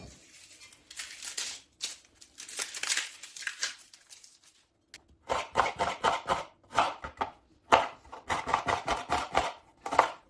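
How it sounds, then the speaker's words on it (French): Rapid knife chopping of an onion on a cutting board, quick rhythmic strokes in bursts with short pauses, close and fairly loud, no talking. "On coupe l'oignon."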